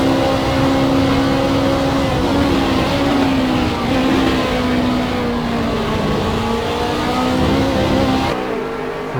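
Ferrari race car engine in a sim racing GT endurance game at Imola, a loud sustained engine drone with shifting pitch as it accelerates through curves, cutting off abruptly near the end.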